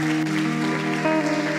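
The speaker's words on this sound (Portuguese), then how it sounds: "Se essas palmas são para Jesus, podia ser melhor, não é?" Applause from a church congregation, clapping mixed with steady sustained musical tones from instruments playing alongside, loud throughout the brief moment.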